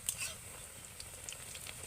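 Soft, quiet sizzle of batter frying in oil, a gentle continuous bubbling hiss with a few faint crackles.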